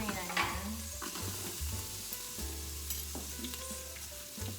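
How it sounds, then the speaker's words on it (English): Onions and carrots sautéing in a hot Instant Pot, a close, soft sizzle with spoon stirring and scraping under a low steady hum, no talk. "we're gonna saute the onions, the carrots,"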